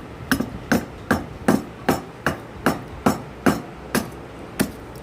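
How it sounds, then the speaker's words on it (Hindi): Rock sugar (mishri) pieces pounded fine in a mortar while making sitopaladi churna, about ten sharp, evenly spaced thuds with no talking. "फिर मिश्री के टुकड़ों को भी कूटिए,"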